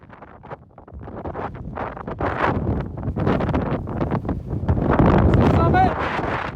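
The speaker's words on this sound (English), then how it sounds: "The wind's blowing" Strong wind buffeting the microphone on the summit of Mount Jackson during a hike, a loud steady roar that swells toward the end, with someone talking over it.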